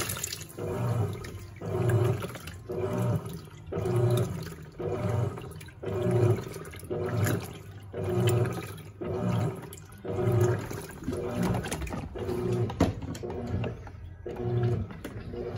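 An Electrolux Perfect Wash Turbo LT12F top-loading washing machine churns through its final agitation stage, with rhythmic sloshing surges of water about every 1.3 seconds, steady and close with no talking.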